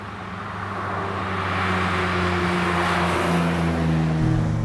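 A Datsun 280Z hot rod drives along, its engine hum rising steadily as it accelerates through a gear, then dipping slightly as the pitch changes near the end, steady and close with no talk.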